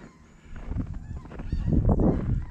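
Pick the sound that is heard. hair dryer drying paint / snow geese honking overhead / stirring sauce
snow geese honking overhead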